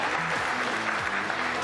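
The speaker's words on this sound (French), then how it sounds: "Ce qui serait bien, c'est qu'on les applaudisse pendant tout le chemin." A crowd keeps clapping in a dense, uniform roar of hands, close and steady, with low murmuring mixed into the wash.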